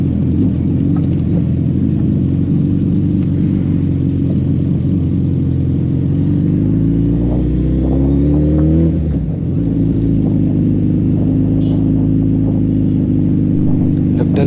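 A car rolls along a dusty, slippery dirt road, its engine rumbling steadily and loud, with a brief rise and dip in pitch midway as the driver changes speed. A voice talks faintly in the background.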